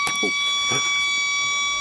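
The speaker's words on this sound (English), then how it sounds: "Just the alarm for thieves." A shop's anti-theft alarm rings with steady, piercing high tones, while a voice briefly cuts in over it near the start.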